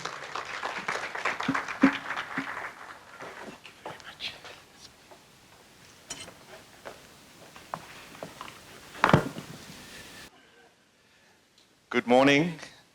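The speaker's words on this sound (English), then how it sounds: "Can we please give Lance a round of applause as he comes up?" An audience at an indigenous language seminar claps in a crowded, pattering burst that thins out, with speech heard over and after it, followed by a short silence and a brief voice at the end.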